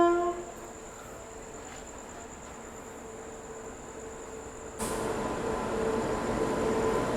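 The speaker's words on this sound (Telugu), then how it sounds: "ట్రైన్ అరైవ్ అయింది ప్లాట్ఫామ్ మీదకి" A Bidar–Machilipatnam superfast express rolls in at a station platform, with a steady rumble and a sustained high whine, then a sudden louder surge of wheel and carriage noise as it draws nearer.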